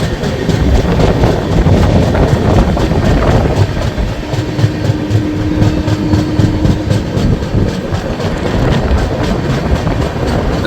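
The 13038 Kumbh Express running on the rails near Varanasi, heard from inside a 2AC coach as a loud, continuous rumbling roar with rhythmic clickety-clack and wind noise, no talk.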